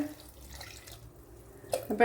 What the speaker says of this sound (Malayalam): വേകുവാൻ ആവശ്യമായ വെള്ളം ഒഴിച്ചു കൊടുക്കുക